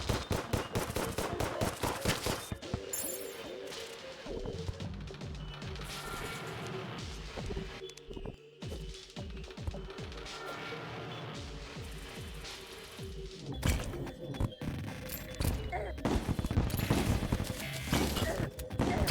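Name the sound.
enemy shooting at player in video game Terraria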